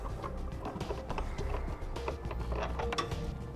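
A hand ratchet loosens the two nuts holding a taillight assembly on a 2017 vehicle, with rapid clicking and ratcheting clatter running steadily throughout, close and fairly loud.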